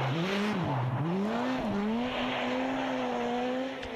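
A Skoda S2000 rally car driving hard on a special stage at the Internationale Jännerrallye, its engine note loud and close, revs rising and dipping through gear changes.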